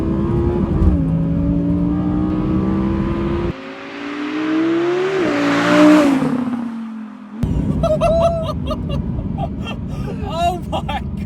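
Audi R8 V10 engine revs hard, pitch climbing and falling through a couple of loud blips, then settles into a rough idle while people talk over it.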